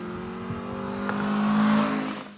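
An aftermarket-modified car drives on a race track at a track day, its engine note rising steadily and growing louder as it nears, a close, droning pass with no voices.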